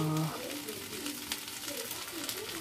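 Chopped garlic, ginger and chilli hitting a hot pan, a steady soft sizzle and crackle with faint stirring, moderately close, a brief voice at the start.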